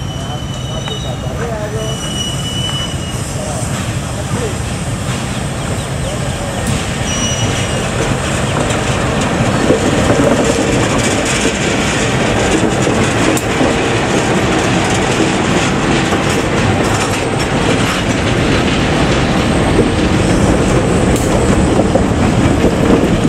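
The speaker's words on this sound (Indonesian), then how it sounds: "Selanjutnya, lokomotif dibawa ke Balai Yasa," A rare BB301/BB304 locomotive is moved by rail, giving a loud, continuous rumble of rolling wheels with clattering track joints and faint squeals that stay close throughout.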